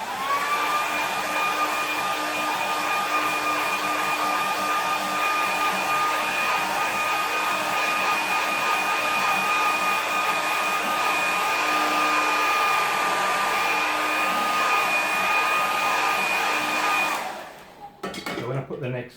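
A hair dryer blows steadily at close range over watercolour paper taped to a plywood board, a loud, even whining roar lasting most of the time before it switches off near the end.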